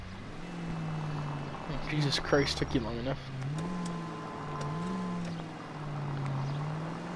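A car in the video game L.A. Noire drives along, its engine holding a steady low hum that rises and dips slightly, while someone speaks briefly over it partway through.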